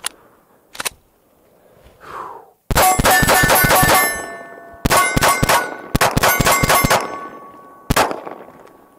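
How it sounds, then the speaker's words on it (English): Pistol rounds from a ZRO Delta FKS-9 Glock-style 9mm handgun strike steel targets, giving loud bright metallic clangs and dings in quick bursts of several hits, each ringing out briefly before the next volley. "Let's go after the steel again."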